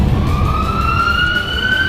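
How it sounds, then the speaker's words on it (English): An ambulance siren sound effect plays as a loud, steady wailing tone with bright harmonics, slowly climbing in pitch, close and alone without speech. "Ambulance sound effect."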